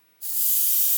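A Gaahleri Mobius TG 0.5 airbrush starts spraying paint abruptly after a brief silence, then holds a steady, close, bright airy hiss to the end.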